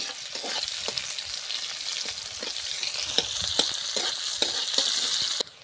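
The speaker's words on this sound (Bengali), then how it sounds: "পেঁয়াজ আবার একটু লাল লাল করে ভাজা হয়ে গেছে" Chopped onion sizzles and crackles in hot oil in a wok, with a steady bright hiss and occasional stirring scrapes, close and fairly quiet, no voices.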